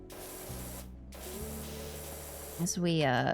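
Pressure washer spraying water in the Powerwash Simulator video game, a steady hissing spray with a brief pause, under a soft tonal game background and a voice near the end.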